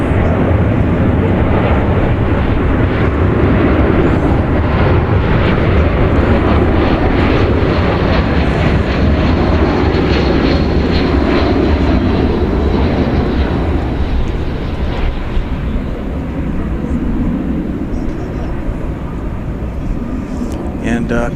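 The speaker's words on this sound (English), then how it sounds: "Coming in there, you saw flight 2269 from Omaha. That was an Airbus A319." An Airbus A319 comes in to land at DFW Airport with a loud, steady jet roar that lasts throughout. Voices can be heard beneath the engine noise.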